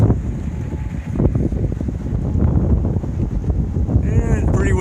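Strong wind buffets the microphone outdoors around sunrise, a loud continuous roar with gusting low rumble that never lets up.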